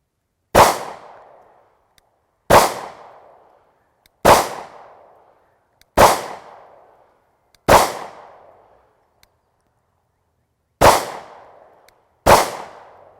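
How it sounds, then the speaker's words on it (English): A Smith & Wesson Shield 9mm pistol fires MagTech ammunition at a range. Seven sharp, loud shots sound one at a time with pauses of one to three seconds between them, each with a short decaying echo. "I'm shooting some of this MagTech ammo"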